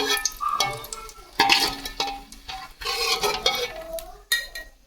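Fried cashews and raisins are scooped and moved with a spoon into another vessel for a vegetable biryani, giving a run of close scraping, stirring and light metallic clinks with soft sizzle between them and no talk.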